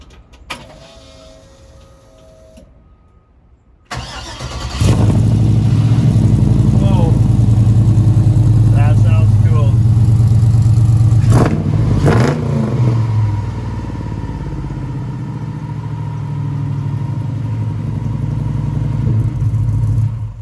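A restored 1951 Chevrolet delivery truck engine starts up after a short electric whir, then runs steadily with a deep, loud exhaust rumble close by, settling into a sustained idle with occasional revs.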